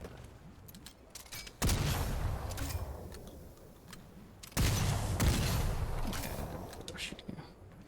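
Gunfire in Fortnite Save the World, bursts of rapid shots starting abruptly and sustaining for a few seconds each, two main volleys with faint ticking between them.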